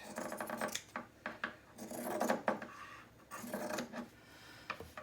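Scissors trimming sewn fabric for a fabric journal cover, close rasping snips and rubbing strokes repeating in uneven bursts with brief pauses between them.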